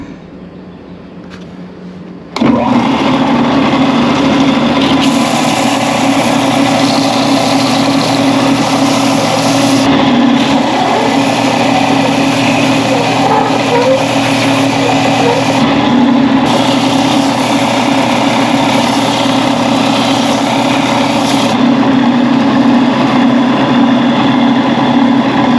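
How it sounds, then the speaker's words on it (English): A wooden DIY smartphone sound booster is being sanded. After a short quiet start, a loud, steady machine drone runs continuously with slight shifts in tone as the sanding goes on. "I can go ahead and sand on it and finish it up"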